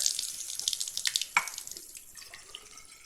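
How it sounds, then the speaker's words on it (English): About 75 milliliters of water splashes and trickles into a graduated cylinder, a short bubbling pour with a few drips, close by and fairly quiet. "we're going to put a known amount of water into our graduated cylinder"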